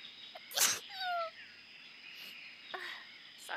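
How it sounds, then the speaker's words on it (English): A single loud sneeze bursts out close to the mic, followed by a softer trailing tone and faint high chirping against low background hiss. "I want to sneeze right now really bad"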